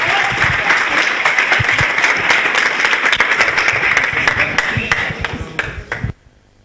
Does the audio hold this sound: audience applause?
yes